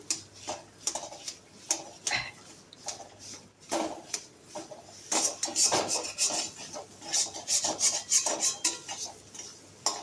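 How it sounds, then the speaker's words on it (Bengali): Soybean curry is stirred in a wok, and the spatula makes repeated close clinks and scrapes against the metal in an uneven rhythm, with no speech. "এই যে এটাকে একটু ভালো করে কষে নেব।"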